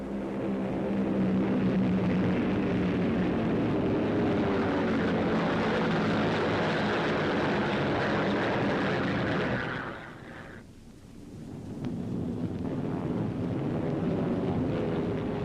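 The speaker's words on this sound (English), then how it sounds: "Our fighters peel off to meet the enemy threat, and the battle is on." WWII fighter planes drone loudly in aerial battle, a sustained engine and propeller roar that dips briefly as an aircraft passes, then builds again, with no talking.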